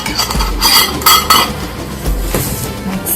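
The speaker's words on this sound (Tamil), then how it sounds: "ஒரு கிளாஸ் ஜார் மாதிரி நல்லா இருக்குது, க்யூட்டாக இருக்குது. ஒரு சில்வர் மூடி போட்டு" A glass candle jar with a silver lid is handled up close, giving several bright clinks and clatters of glass and metal in quick, uneven bursts.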